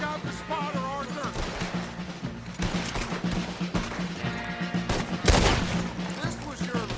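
Gunfire crackles through a Red Dead Redemption 2 battle on a hillside, with repeated rifle shots and a louder boom near the end, and voices shout over the fighting.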